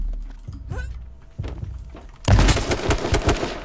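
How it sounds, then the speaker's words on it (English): AK rifle spraying in a competitive shooter game: a loud burst of rapid automatic fire breaks out after sparse thuds and footsteps, close and sharp, continuing to the end. "My AK spray was perfectly on you."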